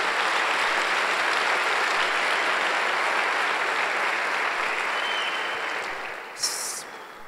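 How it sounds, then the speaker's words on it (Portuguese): A church congregation applauds during a Sunday service, a dense, steady wash of many hands clapping that holds for several seconds before thinning out near the end. "Dá um aplauso aí, por favor, a Jesus"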